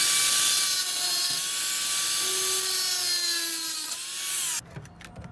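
A grinder cuts metal to fit a MaxxAir Deluxe roof fan during a van conversion, giving a loud, steady, close whine for several seconds before it cuts off and spins down.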